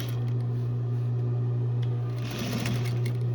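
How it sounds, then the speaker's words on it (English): A sewing machine back stitching while mending a rip beside the back pocket of a pair of pants, a steady close motor hum with a continuous fast needle rattle. "And then back stitch again."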